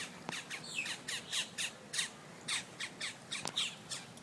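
A flock of birds in Florida squawks while being fed bread outdoors, with repeated harsh, crow-like squawks and caws in quick bursts, several close and loud, over a soft background hiss.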